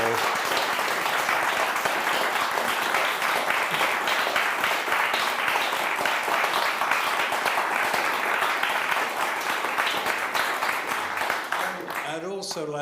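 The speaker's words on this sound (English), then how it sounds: "can you all now give Dermot a big round of applause?" A lecture audience at St Mary's Perivale gives the speaker a long, steady round of applause, many hands clapping densely for over ten seconds before it fades and a voice speaks.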